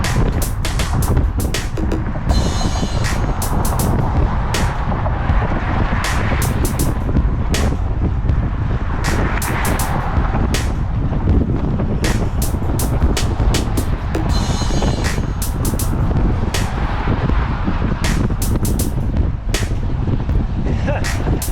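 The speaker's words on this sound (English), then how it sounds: "That's the wind, man." Loud, constant wind buffeting on a bicycle ride, a roaring, rumbling blast filling the clip with brief sharper gusts throughout and no pauses.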